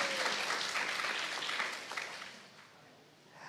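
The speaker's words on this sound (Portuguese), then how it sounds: "Uma salva de palmas para os nossos atores, nossas atrizes" An audience applauds the actors and actresses after a stage performance; the clapping is faint and distant, a steady patter that gradually fades.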